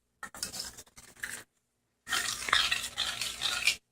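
Fresh corn is stirred with a metal spoon in a stainless steel or cast iron skillet, bursts of scraping and sizzling with light metallic clinks, broken by a short pause before stirring resumes.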